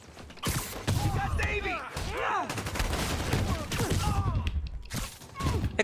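Gunfire in a Spider-Man video game erupts in loud, broken bursts of shots through the whole stretch, mixed with mechanical clatter and thuds, with chirpy effects and a voice now and then over it.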